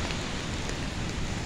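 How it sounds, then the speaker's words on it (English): Steady rain hisses continuously, an even wash of patter with no voices or other sounds standing out. "It's raining."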